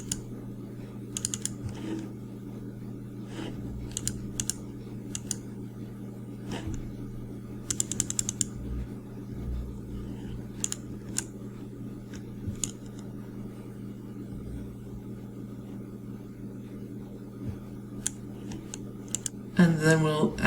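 Typing on a computer keyboard during design editing, with sparse, scattered light key clicks over a steady low hum, closing with a brief louder clatter.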